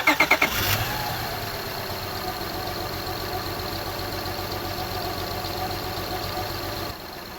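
A Honda Odyssey minivan's J35A7 engine cranks with a few quick chugs, catches, and settles into a steady, even idle after an air leak repair, continuing close by without talk.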